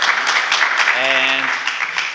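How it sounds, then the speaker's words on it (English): A talk audience applauds in a dense, steady wash of clapping, with a brief tonal sound and voices over it. "yes, applause, it's cool."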